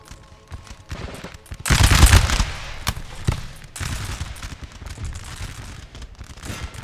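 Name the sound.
musket volleys firing in Napoleon Total War video game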